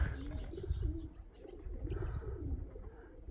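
Pigeons cooing and chirping outdoors, with a steady low background rumble and faint bird calls scattered throughout.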